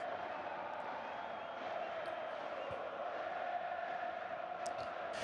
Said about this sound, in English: You hear the Barcelona fans.